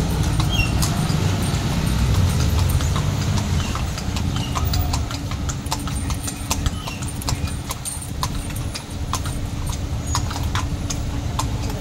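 A horse pulls a carriage through traffic in Intramuros, Old Manila, steady clip-clop of hooves ringing on pavement close by, mixed with engine rumble and street noise.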